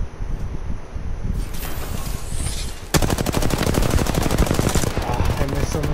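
Automatic weapon fire in Apex Legends, played on PS4: a rapid, loud burst of shots begins midway and continues densely to the end, preceded by softer game ambience and scattered sounds.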